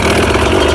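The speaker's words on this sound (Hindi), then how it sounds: "इंजन पर आरपीएम ले जा रहा हूँ।" A paramotor engine runs loud and steady during a ground run, revving up toward 4500 rpm with a continuous droning buzz.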